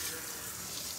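Tap water runs steadily into a sink during rinsing, a close, continuous hiss filling the whole short moment.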